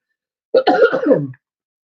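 One close, rasping cough runs into a rough throat clearing, a single loud burst lasting under a second, with silence on either side.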